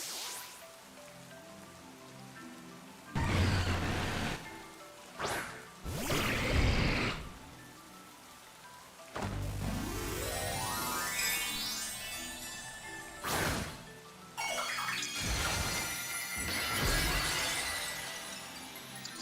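Make It Rain move from Pokemon Scarlet and Violet: a burst of shattering, clinking coin-like bursts and rain-like clatter, repeated several times in loud bursts over game music.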